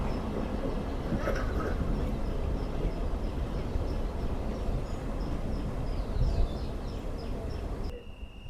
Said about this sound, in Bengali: ছয়টা একান্ন মিনিটে আমাদের ট্রেন প্রবেশ করলো চব্বিশ নগর রেলওয়ে স্টেশনে